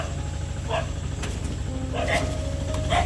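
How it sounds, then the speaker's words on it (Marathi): A dog gives a few short barks at a middle distance over a steady low engine hum. "कुत्री लागलेत आमच्या पाठीमागे"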